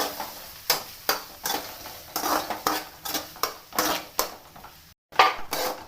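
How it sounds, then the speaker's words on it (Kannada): Onion sautéing lightly in a pan, with a steady run of rhythmic spatula scrapes and stirs, each bringing a burst of gentle sizzle, close and fairly loud, with one brief pause near the end. "ಸ್ವಲ್ಪ ಲೈಟಾಗಿ ಬಾಡಬೇಕಲ್ಲ ಈರುಳ್ಳಿ"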